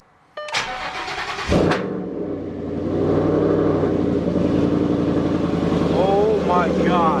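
A Ford Mustang GT 5.0 Coyote V8 fitted with an off-road H pipe cranks and fires up, then settles into a loud, steady rumbling idle close by, with faint voices briefly in the background.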